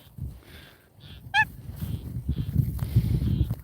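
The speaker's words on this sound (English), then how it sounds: "It's the cutest honk in the world." A tiny pet cackling goose gives one short, high, squeaky stacked honk partway through, close by, amid soft rustling, footsteps and handling noise.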